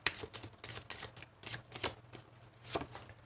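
Tarot cards shuffled and drawn during a reading, a run of soft papery slaps and flicks in irregular bursts, close and fairly quiet with no talk over them.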